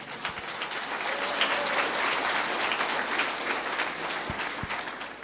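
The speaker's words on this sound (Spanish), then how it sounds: "Fuerte aplausos a Cristo Jesús" A church congregation applauds in worship, a broad, even roll of many hands clapping at moderate distance throughout, with no voices heard.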